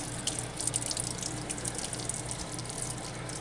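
Water gushes steadily out of the drain valve of an RV hot water tank as the anode is changed, a constant loud rushing splash with no pauses.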